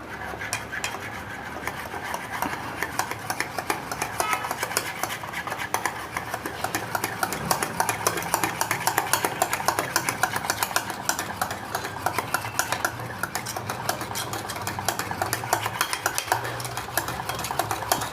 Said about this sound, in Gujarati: આવું સરખી રીતે મિક્સ કરી દેવાનું